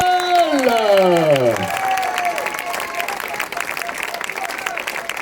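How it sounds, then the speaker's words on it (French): Crowd applauds and cheers for the 2017 French champion at a mountain bike cross-country eliminator race; a brief descending tone opens before steady clapping and cheering fill the rest, with a voice faintly present. "Les applaudissements pour la championne de France 2017, Perrine Clausel"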